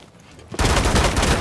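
Video game gunfire aimed at a hatch: a quiet moment, then a sudden loud burst of rapid automatic shots that keeps going without a break to the end.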